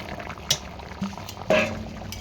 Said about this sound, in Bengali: ঝোল কিন্তু আমার ফুটে গেছে